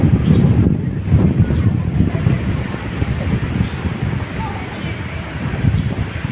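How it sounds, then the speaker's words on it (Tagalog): Strong wind buffets the microphone outdoors, making a loud, continuous low rumble that surges slightly but never lets up for the whole stretch. "hey, lakas pa ng hangin"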